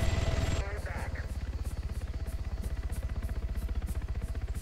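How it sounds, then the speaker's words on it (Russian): A helicopter in ArmA 3 idles with a steady rhythmic rotor chop and engine buzz, moderately loud and constant after a brief burst of other game noise at the start. "Вертолет у нас улетать почему-то не хочет."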